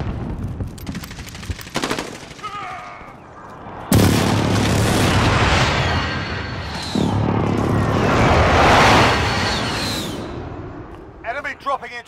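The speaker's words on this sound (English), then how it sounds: "Enemy precision airstrike. Take cover." Repeated heavy explosions from an enemy precision airstrike in Call of Duty: Modern Warfare, loud booms layered with gunfire, starting abruptly and rumbling continuously, with game voices heard between the blasts.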